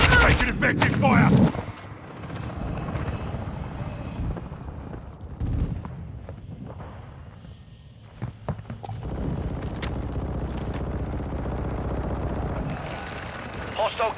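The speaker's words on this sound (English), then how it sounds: "Taking effective fire!" Call of Duty gunfire on PS5 during an Invasion match: heavy bursts and booms open the clip, then scattered shots and explosions continue under in-game radio voice callouts.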